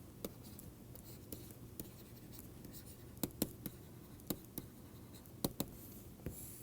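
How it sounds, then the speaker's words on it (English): Chalk or pen writing during a math lecture, faint scratchy strokes and sharp taps at irregular intervals over a quiet room hum, no talk. "Let me write what we proved."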